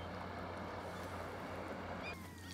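A steady low motor drone of boats on the water, continuous throughout with a faint higher whine near the end.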